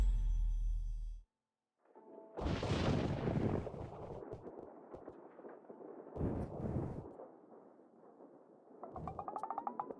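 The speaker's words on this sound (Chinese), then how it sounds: "你害怕打雷啊？" Thunder during a storm at night: a loud low rumble at the start, then a short silence, followed by rolling, moderately loud claps and grumbles that swell and fade in waves.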